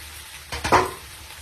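Sweet corn is tossed in a pan, a single quick scraping stir with a short burst of sizzle rising then fading, close and fairly quiet against a low background.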